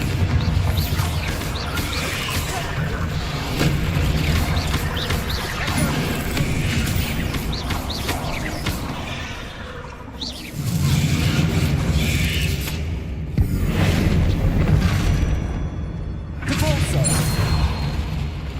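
Explosive Bombarda spell blasts in the Hogwarts Legacy video game, loud booming crashes repeating across the stretch amid dense game music and effects, with a few brief lulls.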